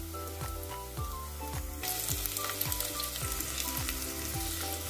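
Onions fry in a pan with a dense, even sizzle that grows louder midway, over a repeating falling tonal pattern in the background; no voices.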